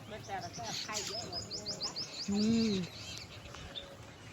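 Several birds chirp and tweet close by, with a short cooing call in the middle and faint background noise.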